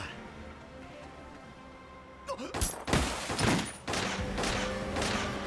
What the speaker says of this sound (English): Did he just get shot in the head, or did he duck?